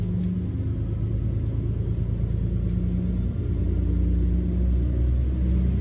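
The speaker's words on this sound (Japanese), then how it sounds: "12時ちょうど列車は定刻通り木月駅を発車。" A Kisuki Line train pulls away from Kisuki Station with a steady low rumble and engine drone that builds slightly. The sound is close and continuous, with no voices.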